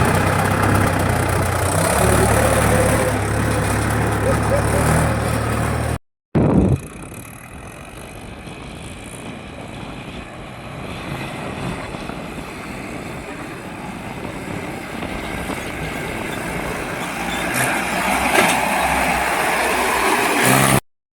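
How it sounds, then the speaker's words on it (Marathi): A farm tractor engine runs close by with a loud, steady rumbling idle, broken by a brief cut, then a rougher, quieter run that builds again toward the end. "चल हे दुसरं ट्रॅक्टर आलं काकाचं."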